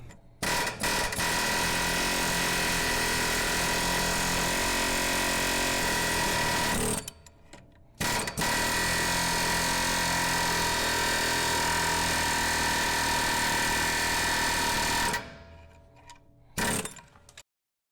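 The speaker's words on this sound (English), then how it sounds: "I'm going to show you that process with an air hammer." An air hammer rattles in long, rapid bursts, loud and close, stopping briefly twice before starting up again, while working on the front axle brackets of a 1996 Ford F250.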